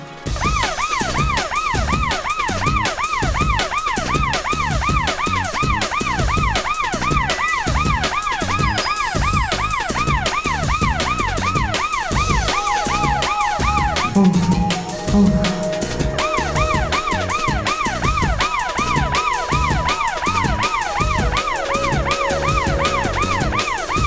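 An ambulance siren wails continuously nearby, a loud, rapidly cycling electronic tone repeating steadily with road traffic noise underneath and no talk.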